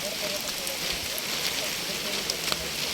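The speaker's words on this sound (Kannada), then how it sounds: "ಆ ರೇಂಜಿಗೆ ಮಳೆ ಬರ್ತಿತ್ತು, ಹೆವಿ ಮಳೆ" Heavy monsoon rain pours through a foggy mountain forest near Netravati Peak, close to Kudremukh, as a dense, continuous hiss of falling water that holds steady throughout.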